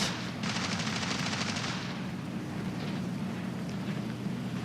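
Aircraft machine guns fire in War Thunder simulator battles: a dense, rapid burst of gunfire over a steady engine drone, with the fire dropping off after about two seconds and the engine roar continuing alone.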